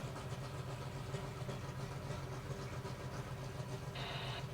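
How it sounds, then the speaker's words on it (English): Flathead engine of the Tachman Car Club belly tank race car at a high-speed racing event, a steady distant rumbling drone heard over a noisy outdoor background, with a short higher-pitched tone near the end. "Man, you should hear this flathead."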